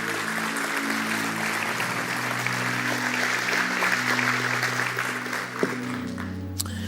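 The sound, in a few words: church congregation applause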